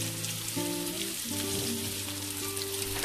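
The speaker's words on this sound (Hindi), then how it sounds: "इसको हम अच्छी तरह मिक्स कर लेंगे ताकि सारी हमारी बंद गोभी फ्राई हो सके" Shredded cabbage frying and being stirred in a pan for chicken fried rice, a continuous close sizzle with bright crackling hiss that runs unbroken through the whole short stretch, with no talk over it.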